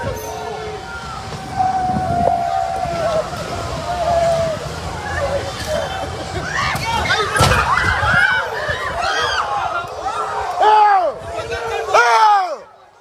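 Crowd shouting and yelling in a Paris street after a ride-hail driver drives into protesters during PSG celebrations, loud and agitated throughout with overlapping voices, whistles and sharp cries rising near the end.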